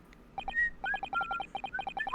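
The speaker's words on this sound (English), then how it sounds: "I can hear a faint whistling sound." A faint, high whistling sound effect from the video game The Great Ace Attorney comes as short sliding tones over a rapid pattern of soft electronic blips, with no speech.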